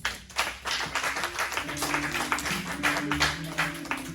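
Church congregation clapping in rhythm during a worship service, a dense, even patter of many hands with voices and music sustained underneath.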